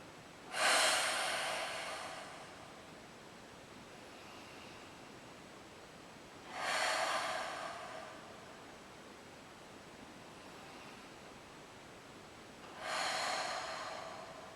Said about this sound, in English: Let's breathe super deep here. 5 deep breaths into your lower back.